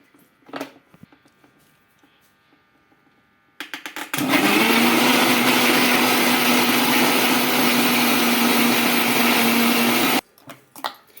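A mixer grinder blends mango pulp for mango papad, starting after a few quiet handling clicks with a loud, steady whirring roar that runs about six seconds before cutting off abruptly.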